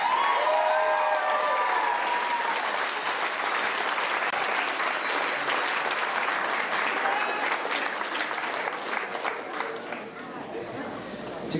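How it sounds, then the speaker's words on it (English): A crowd applauds 8th grade graduates at a school graduation ceremony, sustained dense clapping with some cheering and chatter mixed in, gradually thinning toward the end. "Let's give our 8th graders another round of applause."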